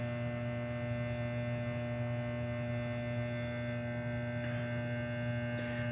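A GE 1000-watt mercury vapor flood light, a Power Flood-1000 that has sat unused for a couple of months, gives off a loud, steady electrical hum with strong, even tones that run unbroken from start to finish, with no voices.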